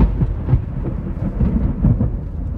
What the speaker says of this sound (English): We're cruising down Needles Highway, and it's thundering out.